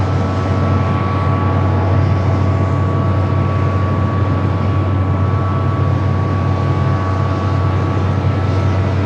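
Steady, loud aircraft engine drone at Los Angeles International Airport from a Nomadic Aviation flight, a continuous broadband roar with a faint sustained tonal whine, holding level throughout with no voices.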